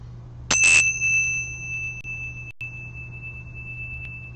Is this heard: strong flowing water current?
no